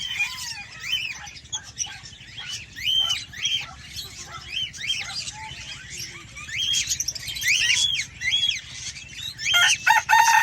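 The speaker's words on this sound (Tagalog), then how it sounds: "Ang mga parrots nila maingay na" Loud, busy squawking and screeching from several parrots, overlapping calls repeating throughout with a few harsher bursts near the end.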